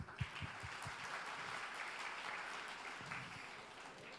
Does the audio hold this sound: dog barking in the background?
no